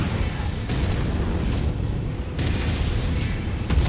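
Enemy mech destroyed in MechWarrior 5: Mercenaries, a dense, loud rumbling explosion with deep booms rolling continuously and a couple of sharper bursts cutting through.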